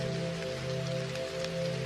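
Steady rain falls throughout, a continuous close patter with a constant low hum beneath it, calm and unbroken for the short stretch with no voices.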